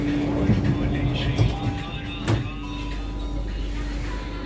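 A Delhi metro train rumbles along with a steady low drone and faint tonal whine, a brief louder clatter midway, and a voice faintly in the background.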